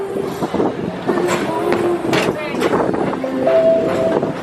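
A Walt Disney World ride vehicle rumbles along a track near Tomorrowland Speedway with rattling and a whining tone, while a voice talks over the steady ride noise.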